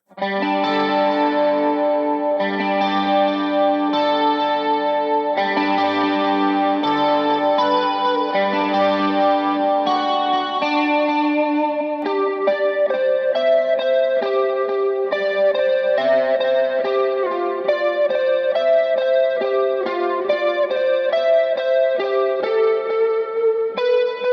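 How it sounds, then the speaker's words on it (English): An electric guitar through a POD Express plays a flowing melodic line with a shimmering, swirling chorus effect, sustained and fairly loud throughout, no talking. "Let's hear how the chorus sounds like."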